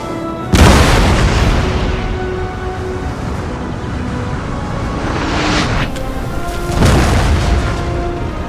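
Howitzer artillery firing in the Napoleon: Total War strategy game, two heavy booming blasts a few seconds apart with a long rumbling tail, loud and close over a constant battlefield roar.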